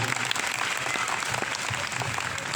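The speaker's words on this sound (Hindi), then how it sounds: "जोरदार तालियां बजनी चाहिए" Loud, dense applause from the crowd at a political gathering, continuous clapping filling the hall with a faint voice beneath.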